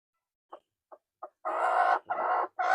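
A small hen clucks: three short soft clucks, then longer, louder drawn-out calls, close by and alone.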